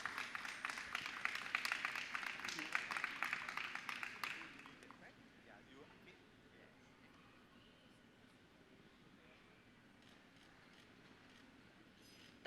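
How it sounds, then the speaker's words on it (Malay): Audience applause at a Hari Warisan heritage awards ceremony: a dense burst of clapping that fades out after about four seconds, leaving a quiet room with faint shuffling. "berikan tepukan sekali lagi untuk mereka semua"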